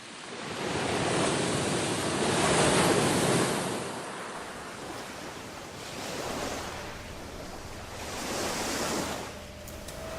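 Ocean waves break along a bay shoreline on an eroding Vietnamese coast, a steady rolling roar that swells and fades in slow surges, with wind noise buffeting the microphone.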